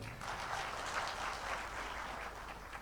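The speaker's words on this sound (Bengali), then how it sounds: "তাই সবার জন্য আরেকটি করতালি দিতে চাই" An audience at an entrepreneurs' conference and sixth anniversary event claps steadily in a dense, even burst, heard faint and slightly distant throughout.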